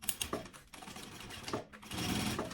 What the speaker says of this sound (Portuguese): vou fazer a costurinha de segurança aqui desse lado também